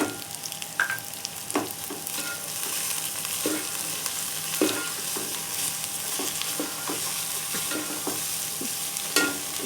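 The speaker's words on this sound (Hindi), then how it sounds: "सारी सब्जियां आप एक साथ मिक्स कर दें और इसे हल्का सा भून लें ताकि ये गले ना।" Mixed vegetables and peas stir-fried in a pan for vegetable macaroni, a steady close sizzle broken by scraping stirs and occasional clacks of the spoon against the pan.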